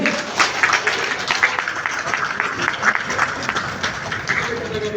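An audience at an Actor Equity Bangladesh event applauding, dense continuous clapping from many hands, fairly loud and sustained throughout with no speech over it.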